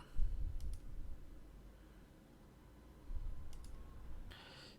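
A computer mouse clicks a couple of times while working in an Excel spreadsheet, quick faint double clicks, with light low rumbling and a brief burst of keyboard-like noise at the end.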